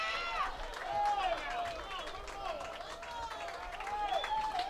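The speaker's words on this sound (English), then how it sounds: "Crowd coming to its feet." Crowd noise at a summer collegiate baseball game between the Newport Gulls and Valley Blue Sox, a steady bed of cheering, whistles and scattered claps rising as fans stand, with loud, close whoops throughout.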